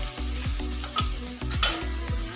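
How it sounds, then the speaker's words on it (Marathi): Onions sauté in a hot pan for a Marathi-style potato bharta, sizzling loudly and steadily up close, with a few scraping stirs of a spatula breaking the frying hiss. "आपला इथं कांदा वगैरे छान असा परतलेला आहे।"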